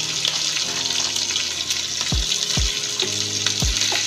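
Ginger and green chili frying in a pan, a steady soft sizzle with a few sharp clinks of a utensil against the pan toward the end.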